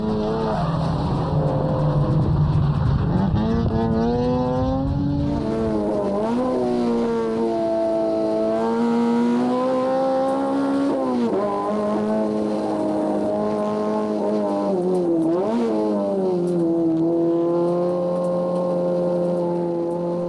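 Race cars at speed around a circuit with a hairpin, engines whining and shifting pitch as they accelerate and brake, loud and continuous with no talk.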